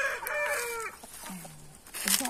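Hens in a farmyard coop cluck and call at close range, with one drawn-out crowing-like call near the start and scattered clucks after it. People talk briefly nearby.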